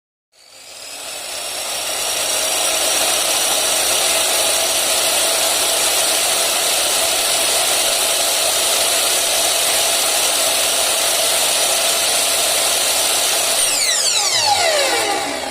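A WIPRO 10-inch slide miter saw spins up and runs with no load, giving a loud, steady motor whine that holds evenly for many seconds before the blade starts winding down at the end; no voices.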